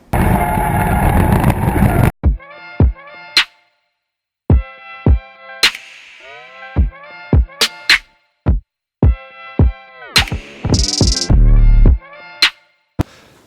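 A Mazda RX7 drift car, a rotary-engined FB, sounds in a run of sharp, separate engine revs and blips after a loud opening burst, with quick rising and falling pitch and short gaps between bursts.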